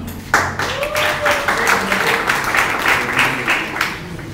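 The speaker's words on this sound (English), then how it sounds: "Let's have an applause for Imran." An audience applauds a debate speaker in a classroom setting, dense steady clapping starting abruptly and continuing at a fairly loud, even level.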